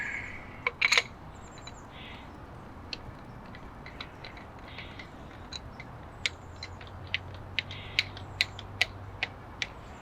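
A container of paintballs being opened near a paintball marker, giving a few creaks and clicks followed by light scattered ticks and rattles, faint and close in a quiet setting with no talk.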